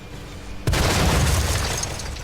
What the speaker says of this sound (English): I get shot in the back.